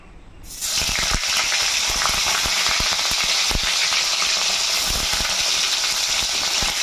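Paneer pieces fry in white oil in a wok (kadai), starting with a sudden burst as they hit the oil, then a dense, continuous close sizzle with scattered pops and crackles.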